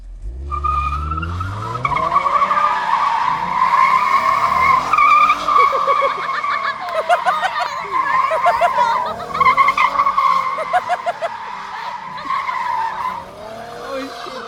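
Car tires skid through a donut in a long, loud continuous squeal that wavers in pitch as the car circles, with the engine revving underneath and voices heard over it.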